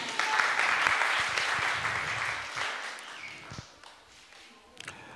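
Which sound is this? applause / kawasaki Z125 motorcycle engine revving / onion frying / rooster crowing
applause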